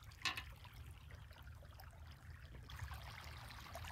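Irrigation water flows steadily into an onion field where the transplants are 24 days old, a soft continuous trickle and wash that stays faint and even throughout, with no voices.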